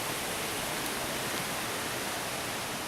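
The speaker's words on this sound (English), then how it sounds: "We have a little bit of a rain shower going on and the wind blowing." Steady broadband hiss of a light rain shower with wind blowing outdoors, even and continuous throughout, with no voices.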